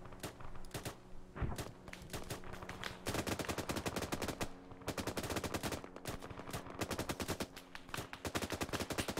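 Machine gun fire in the Arma 3 video game, rapid loud bursts of automatic shots that come in long rattling strings with short gaps between them.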